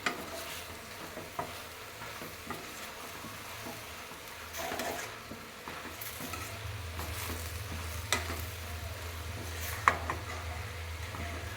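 Fenugreek leaf and mixed vegetable curry stirred as it fries, with grated coconut added, soft sizzling under intermittent scraping strokes and a few sharp clinks, close and moderately quiet with no talk.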